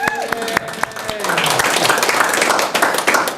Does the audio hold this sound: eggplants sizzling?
no